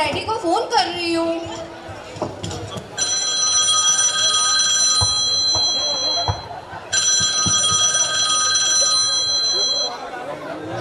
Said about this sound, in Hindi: मैं अभी तुम्हारे डैडी को फोन कर रही हूँ।